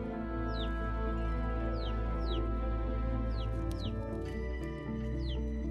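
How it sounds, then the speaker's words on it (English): A very young bantam hen chick cheeps repeatedly, with about half a dozen sharp, high, downward-sliding peeps at irregular intervals over a low, steady background hum. "This is the chick of a bird found in farmyards everywhere."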